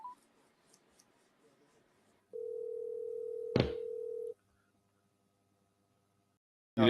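Telephone line gives a steady, clean dial tone for about two seconds while a call is placed, with a sharp click in the middle and faint handling noises before it in an otherwise quiet room.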